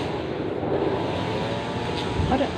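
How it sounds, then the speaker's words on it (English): An airplane passing overhead makes a steady, moderately loud rumbling drone that holds for a few seconds, with faint background sounds mixed in. "the noise going on day in and day out, another plane"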